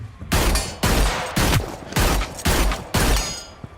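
Rapid bursts of video game gunfire, about six loud, close volleys spaced roughly half a second apart, each with a sharp attack and a short decaying tail, with no talking.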